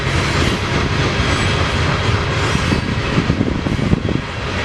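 A BNSF C44-9W diesel locomotive leads a westbound grain train past near Spokane Valley, a loud continuous roar of rolling freight cars with rhythmic wheel clatter throughout.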